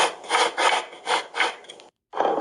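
A lid rubbed and slid across a surface for a stop-motion effect, four or five close scraping strokes in a steady rhythm, then a short silence and one more rub, with no talking.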